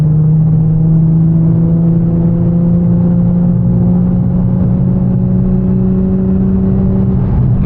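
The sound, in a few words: Pontiac GTO car engine accelerating on road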